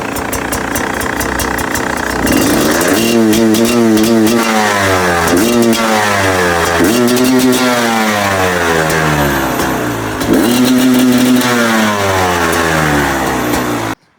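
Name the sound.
2025 Beta 250 RE two-stroke motorcycle running, stumbling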